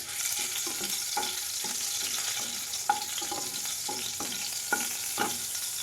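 Green chillies frying in oil with ghee for a navratan dish, a steady broadband sizzle with repeated soft clicks and scrapes of a spoon stirring in the pan, fairly close and continuous, no talking.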